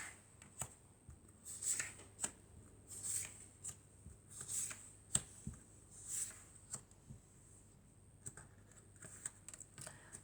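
Tarot-style cards shuffled by hand for a reading, a run of soft riffling flutters and light slaps in uneven bursts, close and quiet with no talking.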